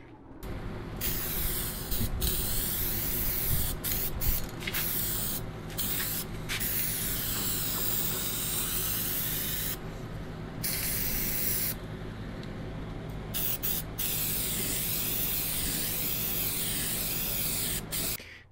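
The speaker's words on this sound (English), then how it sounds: "Throw down some red oxide primer, just out of a rattle can over the bare spots, and then just some Rust-Oleum red over the top of it" Red oxide primer and then oil-based Rust-Oleum red sprayed from rattle cans onto a vintage Lincoln Tombstone 225 AC welder. Long, steady, close hissing bursts broken by short pauses between passes.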